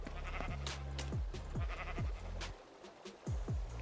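Sheep in a video game let out a series of short, wavering bleats, about eight close calls in quick succession with a brief gap near the end.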